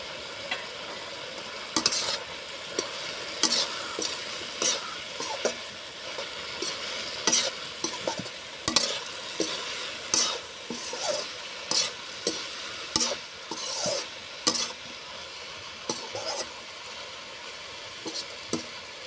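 Ground spices, including turmeric, chilli and cumin powder, frying in a pan over a steady hiss, with frequent sharp scraping stir strokes at an irregular rhythm, close and alone.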